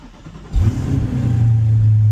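A Corvette race car engine fires up: a sharp crank catches about half a second in, rises in pitch, then settles into a loud, steady, deep-throated idle that grows slightly stronger.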